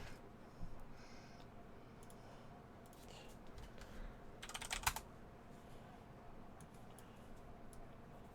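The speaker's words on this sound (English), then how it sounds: "my super quiet keyboard also broke, so my bad if you guys are hearing click-clacks." Someone types on a clicky computer keyboard, soft scattered key clicks with a short denser burst midway, faint against steady room noise.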